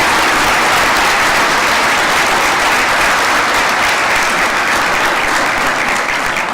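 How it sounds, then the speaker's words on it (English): Loud, sustained audience applause at a graduation ceremony, a dense even roar of many hands clapping that fills the whole stretch without any speech. "Please join me in a round of applause for those individuals."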